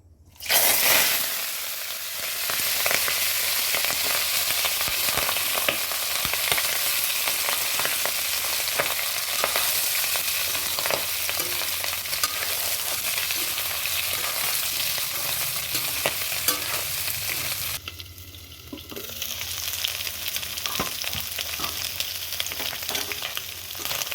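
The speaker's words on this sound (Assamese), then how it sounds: "তেলখিনি অলপ লাৰি দিছোঁ বন্ধুসকল, অলপ লাৰি ফেৰফেৰাই উঠি এই মাংস সেই দিম" Pork frying in hot oil while being stirred, a continuous loud sizzle with frequent scraping stir sounds throughout, briefly dipping before resuming, no talking.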